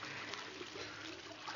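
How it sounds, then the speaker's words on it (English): Water runs from a household faucet in a steady, faint hiss and trickle, continuous and unbroken for a brief moment. "let's try that faucet again"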